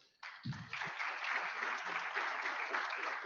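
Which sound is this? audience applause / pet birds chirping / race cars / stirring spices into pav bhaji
audience applause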